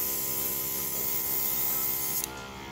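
A ZENY gravity feed airbrush sprays paint in a short, steady hiss of air lasting a couple of seconds and then cutting off abruptly, close up and loud, with no talking over it.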